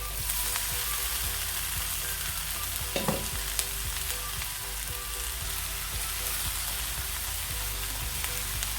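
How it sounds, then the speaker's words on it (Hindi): Lightly blanched vegetables and onions fry in a pan with a dense, constant sizzle, a single brief clatter of a utensil partway through, and no voices. "अब इसमें मैं ये सब्जियां ऐड कर दूँगी, जिसको मैंने हल्का सा बस ब्लांच किया हुआ है।"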